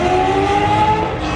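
Drag race car engine at Houston Raceway holding a loud, steady high-pitched rev as the driver misshifts hard, a continuous strained whine with no talk over it.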